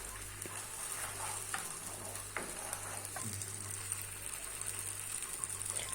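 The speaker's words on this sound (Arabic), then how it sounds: "ونبقى نحرك فيها لين تتجانس المكونات مع بعضها" Ingredients for a grilled wedding-style salad sizzle and fry in a pan while being stirred, a continuous close crackle broken by occasional scraping strokes of the utensil, with no talking.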